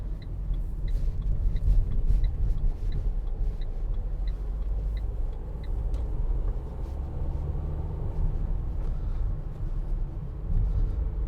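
A 2019 Renault Trafic 1.6 dCi van cruising on the road, with steady low engine and road rumble running throughout at an even level, no talk present.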